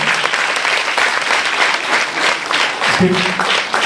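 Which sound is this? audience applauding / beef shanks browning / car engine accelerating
audience applauding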